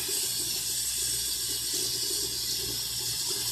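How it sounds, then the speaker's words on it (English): Water streams steadily from a bathroom tap for a few seconds, a constant close hiss and splash while a little is wetted onto a mustache for waxing. "Now I'm putting a little water on here"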